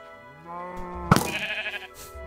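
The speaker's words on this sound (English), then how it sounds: "There's your sheep." Blocky farm sheep in Minecraft give a single clear bleat, a wavering nasal cry standing out over quiet game ambience, fairly close and loud with nobody talking over it.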